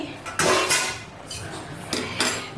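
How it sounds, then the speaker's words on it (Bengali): Metal pot lid lifted off a pot of fish-head muri ghonto after ten minutes of simmering, giving a few close, bright clanks and scrapes of metal on metal in an otherwise quiet kitchen. "10 মিনিট পরে আমি ঢাকনাটা তুলছি"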